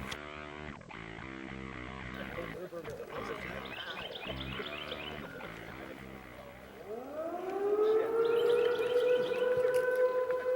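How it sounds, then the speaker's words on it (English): A siren rises and wails near a trout fishing spot, starting around the midpoint and climbing into a loud sustained tone, following a stretch of mixed noise and voices. "as you heard, there went the siren"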